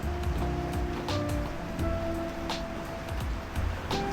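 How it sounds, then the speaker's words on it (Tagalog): Heavy rain pours steadily in a dense, constant hiss, with occasional louder splashes and drips nearby. "Malakas yung ulan guys."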